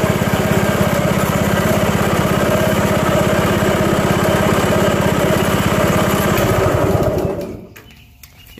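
Lawn mower engine running steadily after a cold spring start on choke, a close, loud, even chugging drone that holds for about seven seconds before the engine cuts off and falls quiet.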